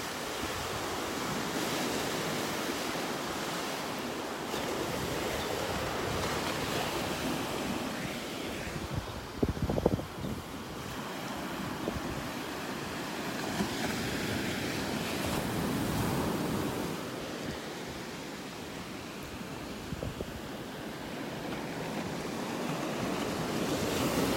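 Sea breeze buffets the microphone on a beach in North Naples, Florida, a steady rushing wind noise blended with the broad wash of surf, with one brief louder gust midway and no talk.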